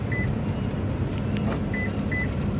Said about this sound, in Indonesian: Oh, dan remote kuncinya ini bunyinya ganti ya